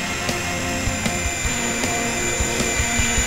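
A ParkZone F4U Corsair RC plane flies near the ground at sunset, its small electric motor giving a steady high-pitched whine with rhythmic pulsing thumps as it passes close.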